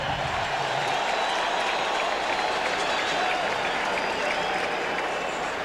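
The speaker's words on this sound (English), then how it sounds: "the crowd's making noise" Stadium crowd noise at a 1998 NFL game, Kansas City at New England, a continuous loud roar of thousands of fans with cheering and clapping that holds at a steady level throughout.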